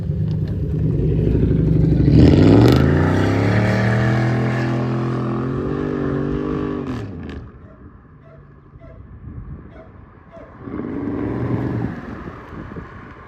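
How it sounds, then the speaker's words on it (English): Chevrolet Monte Carlo SS engine running, a loud rising and falling rumble that swells into a strong revving roar, drops to a quieter idle, then picks up again near the end, with wind noise around it. "The engine's engaging perfectly."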